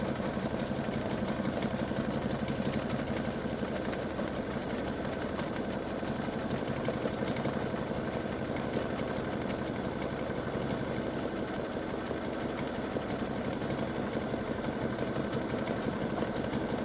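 Computerized embroidery machine satin stitching the pad of a dog paw design for freestanding lace earrings, a steady rapid mechanical whir running continuously and evenly without pause, close and moderately loud, no voices.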